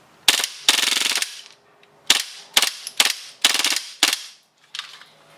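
An airsoft gun fitted with a Guarder nozzle kit fires cheap BBs on full auto in about six sharp, loud bursts of rapid shots, separated by short pauses, with no talking.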